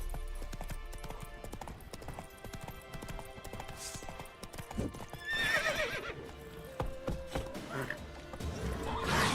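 Roach, Geralt's horse in The Witcher 3, gallops with rapid clip-clopping hooves and lets out a whinny partway through, amid game effects and a voice talking over it.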